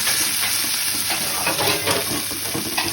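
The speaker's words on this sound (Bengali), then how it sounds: "হলুদ আর লঙ্কা গুঁড়ো দিয়ে আবারও একটু কষিয়ে নেব।" Turmeric and chilli powder frying with spices in hot oil for an aar fish curry, a loud continuous sizzle with faint stirring scrapes, close up and without voices.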